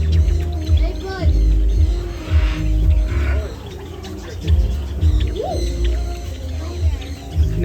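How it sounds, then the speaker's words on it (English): Java finches chirping among other birds, including a golden pheasant, in an aviary, with small scattered chirps and calls over loud talking nearby and low rumbling background noise. "Whole bunch of Java finches."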